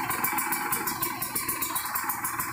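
A Kawasaki Ninja RR two-stroke motorcycle engine idles while warming up, a close, steady rapid burble with a regular pulsing rhythm, alone and without voices.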